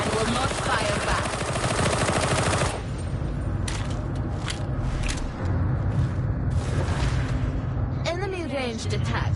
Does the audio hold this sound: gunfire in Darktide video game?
yes